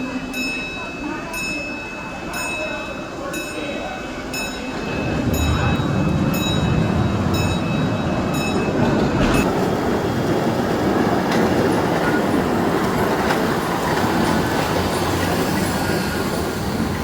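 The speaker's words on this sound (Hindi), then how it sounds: "ट्रेन आ रही है?" A train rolls past outside a shopping mall, its broad rumble and rail clatter rising after a few seconds and then holding loud and steady to the end, with faint periodic ticks and a high tone over it at the start.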